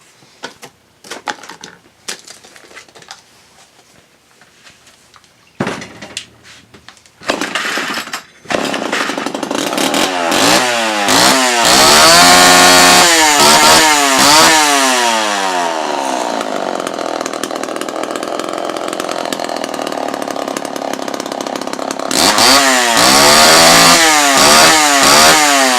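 A Homelite Super XL chainsaw is pulled over a few times, catches, and settles into a loud, steady idle close by, with throttle blips revving it up and down in rhythmic surges before it keeps running.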